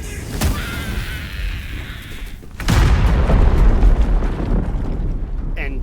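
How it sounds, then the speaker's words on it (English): A deep, rumbling explosion in the video game Baldur's Gate III bursts out partway through and leaves a loud, sustained roar of debris and noise behind it. "And just now it finally exploded."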